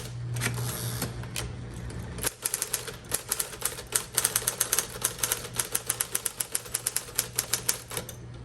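A 1958 Smith Corona electric typewriter types in a rapid, steady rhythm of sharp clacks after a low motor hum, keystrokes close and loud.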